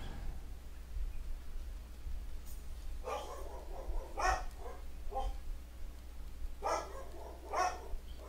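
Dogs barking in a room, several short bark bursts in two clusters over a steady low background hum, moderately close.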